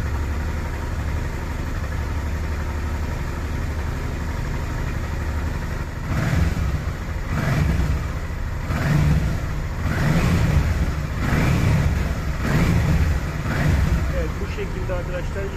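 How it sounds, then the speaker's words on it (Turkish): A Honda XL 650 Transalp motorcycle idles steadily during carburetor synchronization, then revs in a series of repeated throttle blips, close and loud, while someone talks over it. "gaz verip tekrardan bakacağız"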